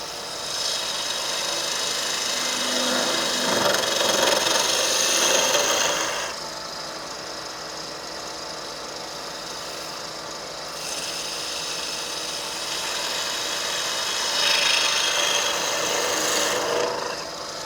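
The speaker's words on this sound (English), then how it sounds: "Going back to my spindle gouge to do a bit more detail." Spindle gouge cutting a wood mushroom spinning on a woodturning lathe, a steady loud close rasping hiss that swells and eases in long sections over the motor's hum, with no talk.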